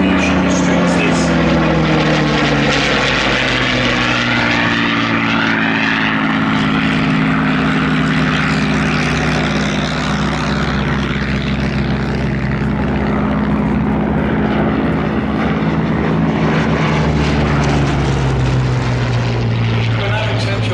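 A loud, deep Rolls-Royce Merlin piston aircraft engine drones steadily, its pitch gently sweeping as the propeller plane passes close by at an airshow, filling the whole stretch without pause.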